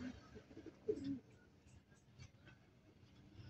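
Racing pigeons coo softly at close range, one louder burst of cooing near the start, with faint background murmur throughout.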